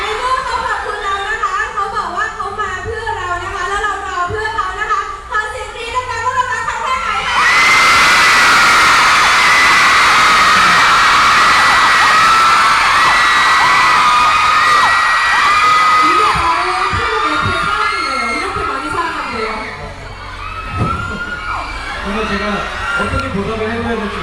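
Fans at a Kyuhyun press conference for Masita burst into loud, sustained screaming and cheering after someone speaks, the crowd roar lasting several seconds before fading back under talk.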